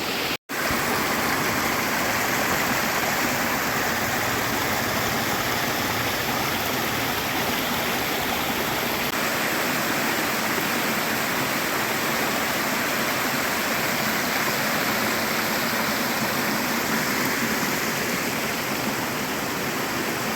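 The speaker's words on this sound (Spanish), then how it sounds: "ya encontramos esta cascada que es hermosa" The Cascada de las Serpientes waterfall, on the road to the Laguna de Yala park, roars as a loud, continuous, dense rush of falling water that holds steady for twenty seconds with no voices.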